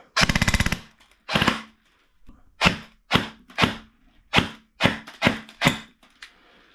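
A KWA airsoft gun with an Airsoft Custom Parts recoil delete, run on 7.4, fires one long full-auto burst, then a string of short sharp bursts with brief gaps, loud and close, with no talk.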